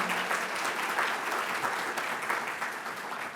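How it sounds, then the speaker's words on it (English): Attendees at a live fall planning event give steady applause for a newly introduced academic vice president, a continuous, moderately distant roll of clapping with no talking over it. "Let's give Jody Long a round of applause here."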